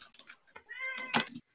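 A pet cat meows at a closed door, a single drawn-out tonal call rising and falling, fairly close and clear, with brief muffled talk around it.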